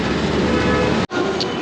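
Steady, loud rumble of a Delhi metro train running, a dense roar with a brief sudden dropout near the end before the noise resumes.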